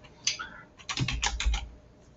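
Quick typing on a computer keyboard, a short burst of several close, crisp key clicks in rapid succession with no speech.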